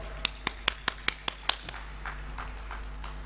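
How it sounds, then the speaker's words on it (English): A few people clap in a large hall at a national food system dialogue, about seven sharp, evenly spaced claps standing out at first, then softer scattered clapping fading under a steady low hum. "Let's give them a round of applause."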